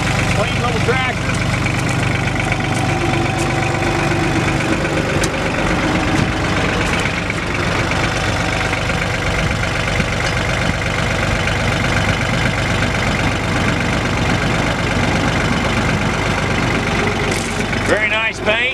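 A John Deere 950 two-wheel-drive diesel tractor engine idles steadily and loudly throughout, a constant low rumble with a faint rattle, and no other sounds rising above it.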